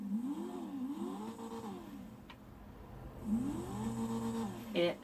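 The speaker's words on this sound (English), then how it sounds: "And this is how the car itself sounds." A race car with a roll cage in GTA 5, its engine rising and falling in pitch through two rev cycles, moderately loud and steady, with a short sharp noise near the end.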